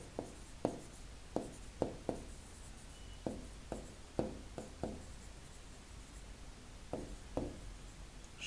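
Pen writing on paper while working a class 7 math problem, a quiet series of short scratchy strokes in irregular bursts, close and alone with no talk over them.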